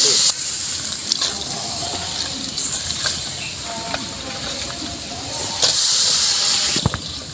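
String beans and kulitis hitting a hot pan with beef cubes set off a steady, loud hiss and sizzle that holds throughout, swelling brighter near the end, with faint background noises.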